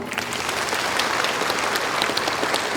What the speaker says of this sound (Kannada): ಟೀಚರ್ಸ್ಗೆಲ್ಲ ಒಂದ್ಸರಿ ಚಪ್ಪಾಳೆ.